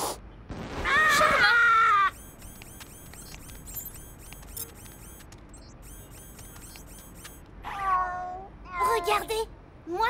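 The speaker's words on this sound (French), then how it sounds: "C'est juste un chat électronique, pas une invention pour gagner." An electronic toy cat gives a loud, drawn-out meow, followed by quieter chirps and clicks, then two more strained, yowling meows near the end.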